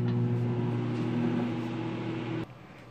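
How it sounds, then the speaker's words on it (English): A microwave oven runs with a steady low mechanical hum and buzzing tones while heating butter, continuous and fairly close, then cutting off abruptly near the end with a faint click. "I'm gonna throw this in the microwave so it melts a little bit."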